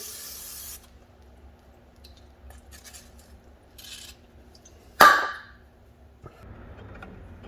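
A single short spray of lubricant is applied behind the brake backing plates of a 1961 Cadillac, a brief hissing burst standing out in an otherwise quiet garage.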